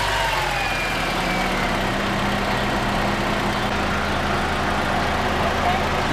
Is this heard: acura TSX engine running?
yes